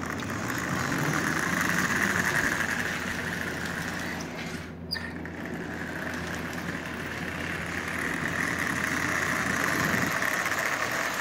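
A Lionel 8142 model train locomotive with a working smoke generator runs steadily, giving a continuous close motor hum with a brief dip midway, and no voices.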